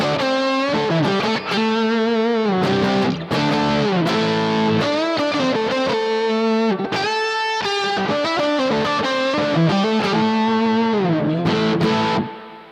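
A distorted electric guitar lead runs through a Line 6 HX Effects synth filter that fattens it. Loud melodic phrases with gliding, chorused notes play continuously, with no one talking.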